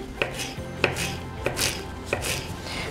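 A knife chops fresh parsley on a cutting board, four crisp, evenly spaced knocks about half a second apart, close and clear with no talking.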